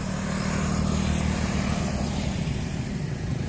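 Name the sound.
motorcycle passing by on a street in Vientiane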